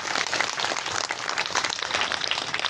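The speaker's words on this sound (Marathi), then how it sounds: "त्या कुटुंबासाठी एकदा टाळ्या वाजवा" A seated audience applauds a family honoured at a devotional Warkari service event, steady dense clapping filling the short stretch at moderate loudness.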